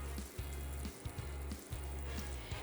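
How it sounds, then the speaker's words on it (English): Butter sizzles and fries in a hot pan, a steady, loud, close crackling hiss that runs throughout with a few sharper pops and spits. "we're going to add another bit of butter to our pan, get that going"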